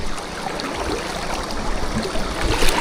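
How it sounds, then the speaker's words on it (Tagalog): Strong river current flowing steadily during a tilapia fishing outing, a dense continuous rush of water with brief louder surges near the end. "Ang lakas po. Agos no."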